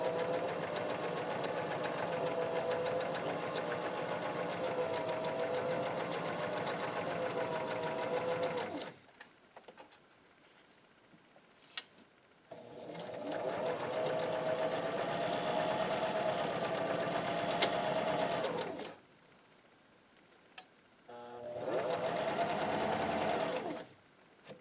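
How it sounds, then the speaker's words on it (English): A sewing machine stitches the hem of a maxi dress with a twin needle, running in a steady close whirring hum for long stretches, separated by brief quiet pauses and small clicks. "So I have my twin needle, and I am ready to put in my hem."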